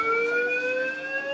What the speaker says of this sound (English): Suddenly, a fire alarm goes off.